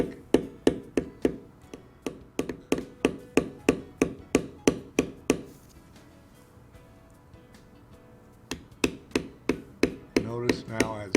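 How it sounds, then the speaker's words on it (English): A checker tool is struck with a mallet to stamp texture into carved leather, making crisp, evenly spaced knocks in a rapid steady rhythm, close up. A quiet pause falls midway before the tapping resumes. "we'll mat this down with the checker tools, which will give us more texture in there"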